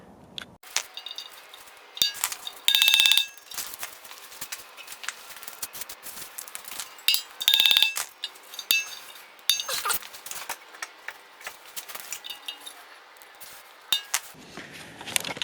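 On a 1997–2001 Honda CR-V front wheel bearing, snap ring pliers remove the snap ring with scattered metallic clinks, scrapes and sharp ticks, a few brighter ringing taps standing out, all close and fairly quiet with no talking.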